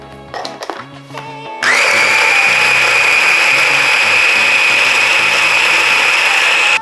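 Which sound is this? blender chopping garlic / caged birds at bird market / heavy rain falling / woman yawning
blender chopping garlic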